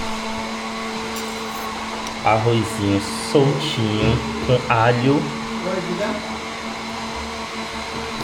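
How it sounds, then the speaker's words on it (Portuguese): A steady whirring blender motor drones throughout as a person talks over it for several seconds in the middle. "Ignorem o barulho do liquidificador"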